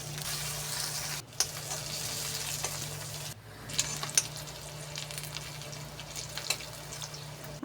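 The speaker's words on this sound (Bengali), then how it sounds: "এরপর কেটে রাখা পেঁয়াজ রসুন দিয়ে দেব।" Chopped onion and garlic fry in a pan of oil with bay leaf and cumin for a beef paya stew. The sizzling is steady and close, with brief stirring clinks and a short break.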